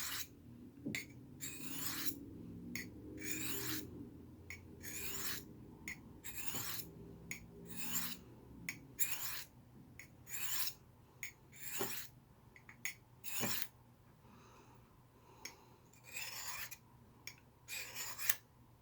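Knife blade drawn freehand across a wet Smith's diamond sharpening stone, giving a series of rhythmic raspy scraping strokes close up, each pass a short gritty swipe with brief pauses between.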